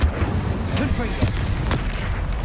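Fiery blasting-curse explosions in Hogwarts Legacy, several booming bursts over a dense, rumbling battle din with a voice shouting spell names through it.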